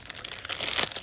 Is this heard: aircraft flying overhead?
no